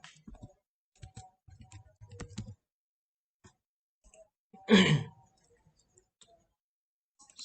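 Someone types login details on a computer keyboard, producing a few sparse, quiet key clicks in short clusters, with a louder rustle or throat sound midway and long silent gaps.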